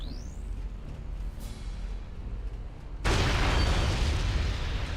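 An explosion in Metroid Prime 3 erupts abruptly after a few seconds of low ambient rumble and a rising whoosh, then holds as a loud, sustained roaring blast filling the rest of the moment.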